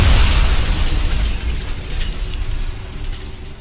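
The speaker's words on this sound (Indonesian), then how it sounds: "Ledakan terakhir meletup." A loud explosion effect in a narrated tale of mystical conflict: a heavy opening boom with deep rumbling that slowly decays into a long, fading roar and crackle, heard alone without voices.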